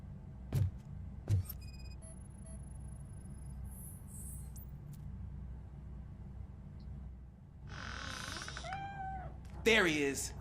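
A cat in the RoboCop: Rogue City game lets out a couple of short meows near the end, following two early dull thuds and a quiet, humming stretch with faint electronic tones.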